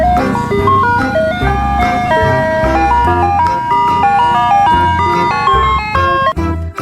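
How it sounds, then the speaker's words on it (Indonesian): Toy ice cream truck plays a bright electronic jingle melody, loud and close and continuous over a low rumbling tone, with no talk. "Yang ini ada mobil es krim."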